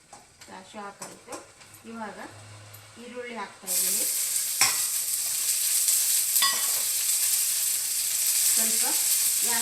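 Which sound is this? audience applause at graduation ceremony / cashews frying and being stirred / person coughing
cashews frying and being stirred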